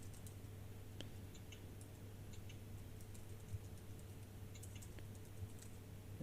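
A name is typed on a computer keyboard, heard as quiet, scattered key clicks over a faint steady hum in a still room.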